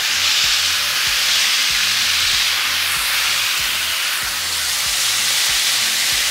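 Marinated taco meat sizzles steadily in a hot skillet, a loud, continuous close-up crackle and hiss with faint low clatters underneath, no voices.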